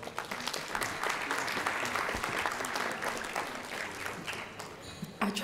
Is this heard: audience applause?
yes